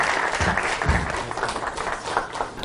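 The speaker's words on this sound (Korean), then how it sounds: "큰 박수 부탁드리겠습니다" Audience applause at a Korean school broadcast event, a full burst of clapping filling the room, loud and continuous.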